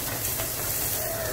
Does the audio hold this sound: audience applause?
no